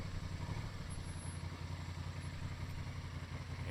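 A Honda Transalp 750 motorcycle engine running steadily on gravel, a low, even idle-like rumble with faint clatter, fairly quiet and unbroken for several seconds, no talking.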